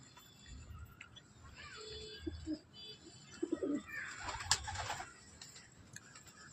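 Pigeons coo in a few soft, low bursts mixed with other bird calls and background noise, fairly faint and close by.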